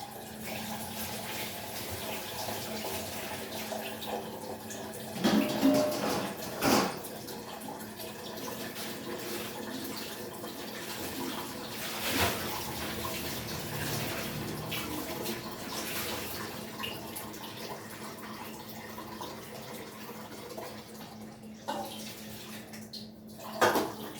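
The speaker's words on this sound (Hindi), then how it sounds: "ये आरओ का पानी फिर ले लिया, डाल दिया इसमें" RO-filtered water is poured steadily from a vessel into a wide kneading bowl (parat) for dough, making a continuous close splashing flow with a few clinks from the container.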